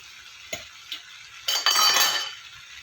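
Mutton being stirred in a pan with turmeric and ginger garlic paste: a couple of light utensil clinks, then a burst of scraping and sizzling, fairly quiet and close with no talk.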